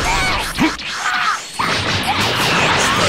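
A sharp whooshing energy blast with a crash-like burst, continuing as a dense, sustained roar; loud and close throughout. Special Beam Cannon attack, Dragon Ball Z anime.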